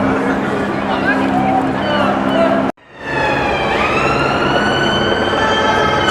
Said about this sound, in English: Shitloads of ambulances knocking about all of a sudden.